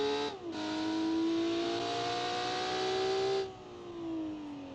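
A 1.3-liter car engine in the BeamNG driving game holds a high, aggressive rev near 8,000 RPM, a sustained buzzing whine that dips briefly at the start and eases down near the end.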